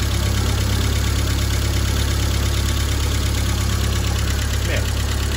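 A 1952 Fordson E83W van engine idles steadily after repairs, a continuous low mechanical drone with a faint tappet tick, close and unbroken throughout.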